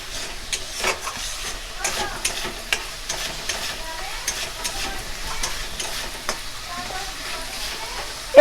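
Spice masala being sautéed and stirred in a pan for a soybean curry, with a continuous soft sizzle and repeated scraping strokes of the spatula, fairly close but moderate in level.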